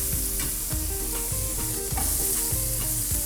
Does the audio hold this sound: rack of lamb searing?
yes